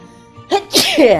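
A single loud, close sneeze with a short intake of breath followed by a sharp burst, heard alone.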